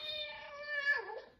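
One short cat meow, a drawn-out tonal cry that bends downward at the end, played as a note in an animal piano sequence, close and clear with no talking.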